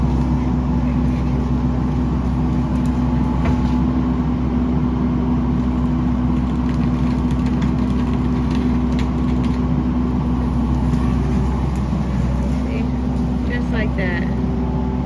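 A skid steer with a tree saw attached runs steadily at close range, its engine droning loud and constant throughout, with a voice talking over it.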